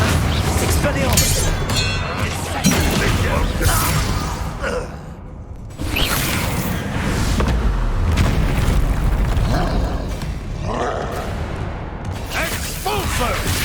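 A Confringo fire-blast spell explodes during a Hogwarts Legacy battle, with booming impacts layered into dense, continuous combat noise and voices for most of the stretch, a brief lull midway.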